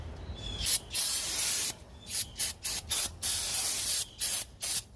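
Brake parts cleaner sprays from an aerosol can onto new rotors for a 2014 Dodge Durango brake job: a long hiss, then a run of short, loud, sharp bursts with gaps between them, close to the microphone with no talking.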